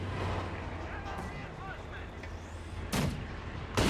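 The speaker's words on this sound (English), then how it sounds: "Double mortars from TomCat." Mortar fire in Company of Heroes 2, a low rumbling battlefield bed with two sharp, loud blasts landing near the end, about a second apart.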